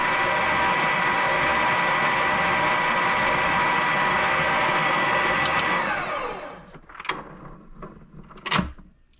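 An electric mixer whirs steadily through Guyanese black rum cake batter, then winds down and stops, followed by a few sharp knocks and taps in the quiet.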